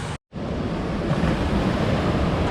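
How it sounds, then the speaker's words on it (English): Ocean surf rushes onto a Bali beach in a dense, steady wash of noise after a brief cut at the start, loud and close with some wind. "I can see the sand and I can hear the waves a little bit louder"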